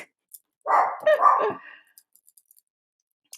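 Dogs bark indoors, a brief burst of two or three sharp barks in quick succession, moderately close, followed by near silence with faint small clicks.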